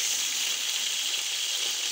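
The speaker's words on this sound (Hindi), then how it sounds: "इसे अच्छी तरह फ्राई होने देंगे, हल्के ब्राउन" Onions sizzling in hot Sultan vanaspati ghee, a steady, loud, continuous frying hiss with a close crackle and no talking, for a vegetable rice dish.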